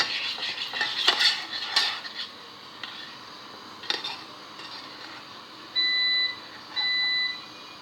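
A spoon scrapes and clinks around a saucepan in short bursts while crème fraîche is stirred in over a faint sizzle, followed by two steady electronic beeps.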